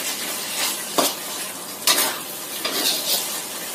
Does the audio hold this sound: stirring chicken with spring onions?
yes